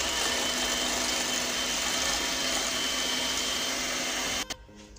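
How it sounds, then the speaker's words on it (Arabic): An electric mixer whisks egg yolks and sugar until they turn pale for a peach and hazelnut magic cake, a steady loud whirring motor drone that cuts off abruptly near the end. "Je vais fouetter mes jaunes d'œufs avec le sucre jusqu'à blanchissement"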